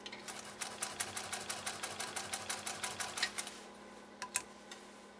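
A 1928 Singer 66-6 sewing machine stitches in a workshop, giving a fast, even series of clattering needle strokes that run steadily for several seconds, then pause before a few last stitches.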